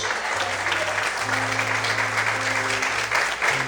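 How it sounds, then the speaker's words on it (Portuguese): A church congregation claps in praise during a sermon, a thick, continuous roar of hands over sustained low keyboard chords that shift beneath it throughout. "Quantos podem aplaudir e glorificar a Deus?"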